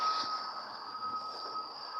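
A subway train running through a station, with a steady high metallic squeal of wheels on rail over a low rumble, continuous and moderately loud.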